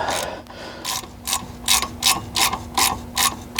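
A ratchet clicks in repeated bursts while loosening the banjo bolt on the back of a front brake caliper of a Chevy C10, about eight close, crisp strokes in even rhythm.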